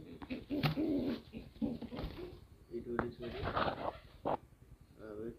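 Pigeons cooing around a breeding nest holding chicks and eggs, soft repeated coos and rustles nearby, mixed with a person talking quietly.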